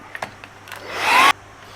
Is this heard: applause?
no